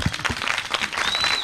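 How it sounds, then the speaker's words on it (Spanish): Audience applause at a youth film festival event in Ituango, close, lively clapping with distinct individual claps and a faint whistle or cheer rising near the end. "¡Aplaudamos!"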